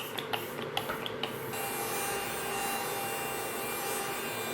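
A few soft clicks, then a steady, close hiss of e.l.f. makeup setting spray sprayed onto a face that runs on for several seconds.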